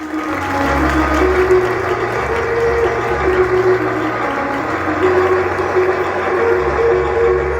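A crowd at a Ram Katha religious gathering in Madhukarpur claps steadily and loudly, a dense sustained applause with a low hum underneath and no talk.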